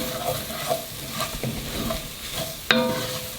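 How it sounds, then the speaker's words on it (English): Two tablespoons of flour get stirred into a pot of white chicken chili, with a spoon scraping and clinking against the pot over a low, steady sizzle and a sharper knock near the end, no one talking. "2 tablespoons of flour and stir that in there"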